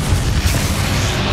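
A fire-curse spell blast in the fantasy video game Hogwarts Legacy, cast during a dragon boss fight: a loud, sustained low boom that rumbles steadily throughout.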